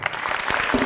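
Studio audience applause on a Pakistani talk show, a dense, steady burst of clapping that fills the whole moment at close, even loudness.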